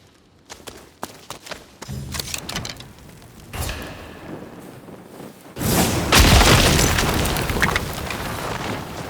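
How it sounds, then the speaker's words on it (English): Bombs blasting open a sealed stash in the video game Ghost of Yōtei: scattered clicks and thuds build to a boom, then a big rumbling explosion with a long, loud, rolling tail. "Found the stash, but it's sealed tight. We'll have to bust it open. Bombs?"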